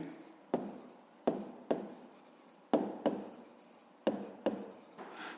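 Pen or chalk writing out a math solution for a fifth-grade distance problem about boats, heard as a series of scratchy strokes in bursts with short pauses between them, close and fairly quiet, with no talking.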